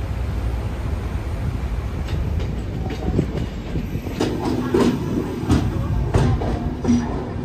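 A passenger train rumbles along on the Howrah to Jagdalpur route, a steady loud roll with rhythmic clickety-clack wheel beats growing more distinct in the second half.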